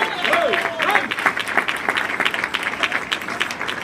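A church congregation bursts into loud, sustained applause mixed with cheering voices and shouts, the clapping dense and continuous throughout.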